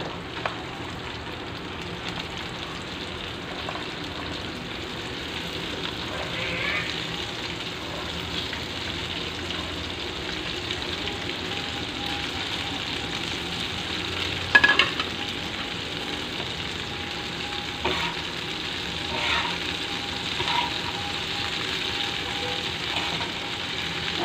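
Okra (bhindi) frying in a pan for a Sindhi bhindi fry, giving a steady, even sizzling hiss throughout, with an occasional stirring clatter near the middle.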